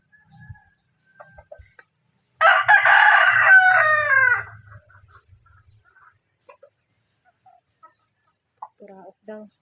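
A six-month-old young rooster lets out one loud, rough crow of about two seconds that breaks off unevenly, close by in a quiet yard, with faint clucks and a voice murmuring before and after.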